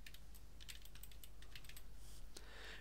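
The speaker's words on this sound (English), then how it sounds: "type in the word photographer" Light typing on a computer keyboard, a quick run of soft clicking keystrokes in irregular bursts over a steady low hum, close and fairly quiet.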